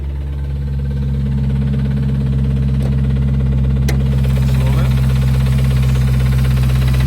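A 2014 Jeep Grand Cherokee 6.4L 392 V8 idles nearby with a steady, deep rumble and constant low throb, with faint clicks over the top.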